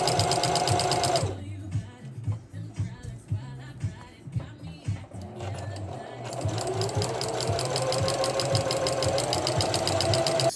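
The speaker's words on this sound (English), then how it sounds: "pin these together, sew them as best I can" A sewing machine stitching skirt seams, a fast mechanical rattle running in bursts, stopping briefly mid-way and then resuming, close and loud, with some talking around it.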